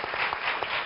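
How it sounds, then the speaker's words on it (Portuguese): Brief burst of studio audience applause for the presenter Conceição Lino of the Boa Tarde show on a Portuguese TV set, dense steady clapping filling the whole moment. "Um grande aplauso para a Conceição e para o Boa Tarde"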